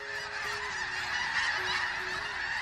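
A dense flock of snow geese honks continuously, many overlapping calls forming a loud, steady chorus at a wildlife-rich valley known for snow geese and trumpeter swans.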